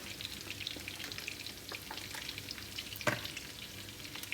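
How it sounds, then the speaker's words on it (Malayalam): Oil frying in a pan while preparing dum biryani sizzles softly and evenly, with light scrapes of stirring and one sharper clatter midway, fairly quiet and close, no talking. "കുറച്ച് ഓയിൽ ഇട്ട് കൊടുക്കുന്നുണ്ട്"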